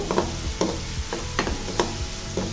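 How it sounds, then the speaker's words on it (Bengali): Garlic paste and onions frying in a pan for a Bangladeshi dish, a steady close sizzle with regular scraping stirs about every half second. "তো রসুনটাকে পেঁয়াজের সাথে একটু ভেজে নিচ্ছি।"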